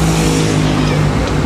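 Sugeng Rahayu intercity bus running from Bandung's Cicaheum terminal to Surabaya Bungurasih, passing close with a loud, steady engine drone and road rumble.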